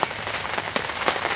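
Rain falls on a field during a wet-weather turkey hunt, a dense, close, continuous patter of drops with scattered sharper taps and no talking.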